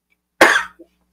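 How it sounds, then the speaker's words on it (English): Someone on a video call gives a single sharp, close cough followed by a tiny catch of breath. "Oh, you're coughing."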